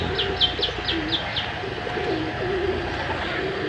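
Pigeons at a shrine beside a mosque coo softly nearby, with a quick series of bright chirps at the start over a steady low background hum.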